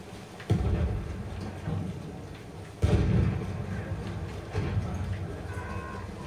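Steady rain with deep rolling thunder in the Battlefield 1 video game on the Passchendaele map, a continuous wash broken by heavy booming rumbles.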